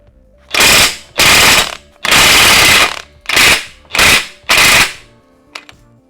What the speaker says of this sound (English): I got my big old DeWalt impact here